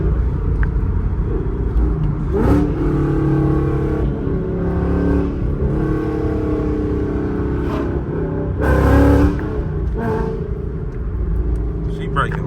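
Ford Mustang GT engine pulling hard under acceleration with the tires breaking loose, a loud, steady low rumble and rising harmonics running throughout, with a couple of brief harsh bursts and a voice speaking over it.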